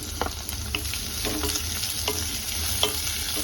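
Chopped onions, two of them, fry and get stirred in hot oil with spices for a spinach chicken curry, a continuous close sizzle broken by scraping stir strokes and small clinks of the utensil against the pan.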